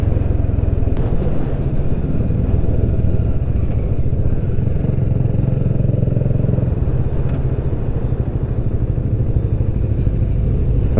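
A motorcycle cruises along winding Algarve roads, its engine droning loud and steady at close range with wind rush and road clatter, and no talking.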